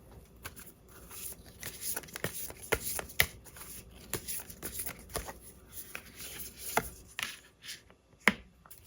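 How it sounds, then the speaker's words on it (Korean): Tarot cards being shuffled and drawn by hand, a steady close run of soft riffling slaps and crisp flicks with occasional sharper snaps, no voices. "우리 여러분들을 위한 행운 좋은 카드 한 장 보면서 이야기 정리해 보도록 할게요."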